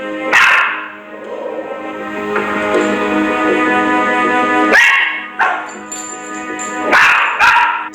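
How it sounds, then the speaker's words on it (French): Dog barking indoors near a sofa: a few sharp, close barks at uneven intervals, separated by thin whining and whimpering. "il recommence à aboyer"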